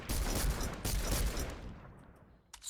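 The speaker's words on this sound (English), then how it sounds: "So this is the Infantry Rifle" Rapid volley of semi-automatic Infantry Rifle shots in the video game Fortnite, loud and close for about a second and a half before the reverberation trails off.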